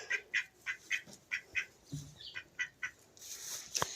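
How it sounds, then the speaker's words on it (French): A young male mallard duck quacks in a quick run of about ten short, nasal calls, fairly close but not loud, followed by some rustling outdoor noise. "C'est le petit mâle col vert."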